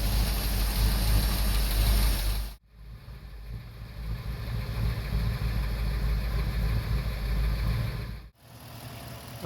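A 1966 Ford Fairlane with a 351 CL engine idles loud and rough after starting for the first time since last fall, the steady rumble broken by two brief dips where the sound cuts out.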